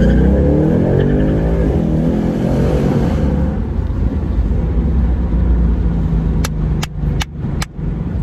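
A 2019 Ford Mustang GT Premium rated at 460 horsepower revs hard and accelerates, its loud, sustained engine roar rising near and close with a few sharp pops or shift cracks toward the end.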